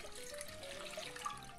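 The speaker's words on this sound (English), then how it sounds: "we're going to put some water in there" Water runs from a tap into a sauce pot, a faint, steady splashing stream with no voices over it.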